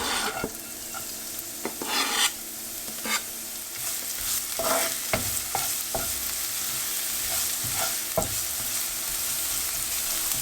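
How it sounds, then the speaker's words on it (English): Food fries in a pan with a steady, close sizzle, broken by repeated scraping and clacking strokes of stirring; no voices are heard. "So we just let that fry for about 30 seconds to a minute"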